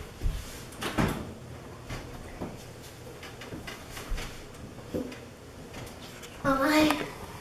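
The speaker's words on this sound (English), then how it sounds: "You go open the oven and I'll put it in" Home kitchen oven door opened, a brief clunk and creak of the door under light talk, followed by a bright metallic rattle near the end.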